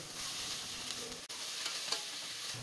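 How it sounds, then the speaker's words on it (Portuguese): Ground meat seasoned with paprika sautéing in a pot, a steady close sizzle with stirring scrapes and no voices. "volto a refogar até ela estar totalmente desmanchada e cozida"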